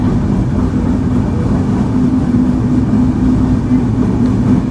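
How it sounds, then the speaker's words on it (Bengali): Madhumati Express with LHB coaches rolling slowly through Abdulpur railway junction, a steady low rumble and hum of the moving train heard from on board, continuous and fairly loud throughout. "আমরা থ্রুপাস যাচ্ছি ধীর গতির সাথে আব্দুলপুর রেলওয়ে জাংশন।"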